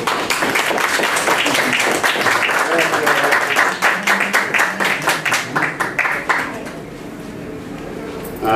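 An audience at an international forum against corruption and organized crime claps loudly to welcome a speaker. The dense applause fades into scattered claps after about seven seconds.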